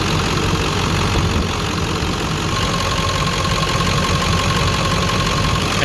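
A truck engine idles loudly and close by, a constant rough rumble with a steady mechanical knock throughout, during air conditioning diagnostics for a weak or failing compressor.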